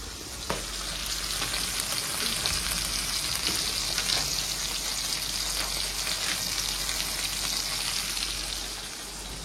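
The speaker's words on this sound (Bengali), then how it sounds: "আর এদিকে মাছটাও ভাজছি, দুটো করে ভাজছি।" Two fish fry in a pan of hot oil, a steady close sizzle and crackle running continuously throughout with occasional sharper pops, no talking.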